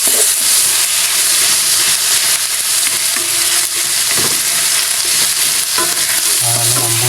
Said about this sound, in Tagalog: So nagisa na natin yung ating bawang, sibuyas